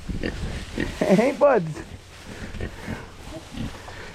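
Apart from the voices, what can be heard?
pigs grunting in their pen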